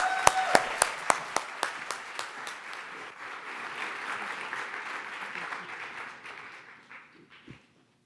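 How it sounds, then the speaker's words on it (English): A university business competition audience applauds as a presenter comes out, loud sustained clapping with a few sharp claps at the start, fading out after about seven seconds. "round of applause for Sherry to bring her out"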